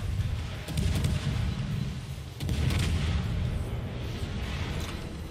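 Naval guns firing in World of Warships, with a Halland destroyer in the match, producing dense, rolling booms that swell twice into sustained heavy thunder.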